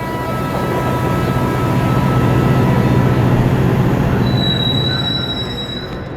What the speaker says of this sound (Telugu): ట్రైన్ వచ్చేసిందమ్మా